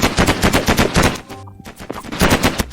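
Rapid bursts of spaceship gunfire in a Mini World space war map crackle loudly in quick repeating volleys. A brief pause sits in the middle, and then the shooting picks up again, with no voices heard.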